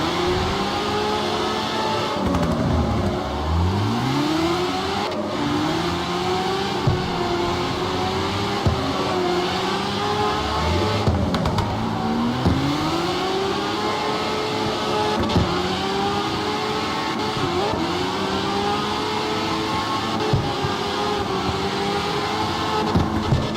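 Mazda car engine in the CarX Street racing game revving continuously through repeated gear shifts, pitch sweeping up and dropping again and again, loud and steady with no talk.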